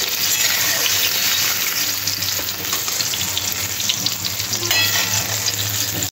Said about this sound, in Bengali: এবার এই তেলের মধ্যে উচ্ছেগুলো ভেজে নেব।